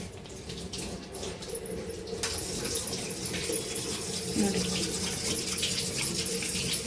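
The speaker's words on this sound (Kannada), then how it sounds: "ಅಕ್ಕಿ ತೊಳೆದಿರೋ ನೀರು, ಆಲೋವೆರಾ ಜೆಲ್ಲು ಮತ್ತು ನಿಮಗೆ ಯಾವ್ದು ಬೇಕೋ ಆ ಶ್ಯಾಂಪೂನ ಹಾಕಿ ಮಿಕ್ಸ್ ಮಾಡ್ತಾ ಇದ್ದಾರಮ್ಮ" Rice-washing water, aloe vera gel and shampoo being stirred together for a homemade aloe vera hair oil, giving a steady watery swish and slosh under a continuous background hiss, with a brief spoken word.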